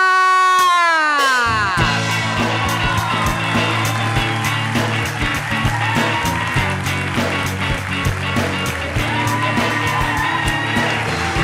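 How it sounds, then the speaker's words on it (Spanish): A live talk-show studio audience cheers, whoops and claps to welcome a singer, loud and close, with dense clapping running the whole way under a burst of music that starts it. "quiero que reciban con un fuerte aplauso"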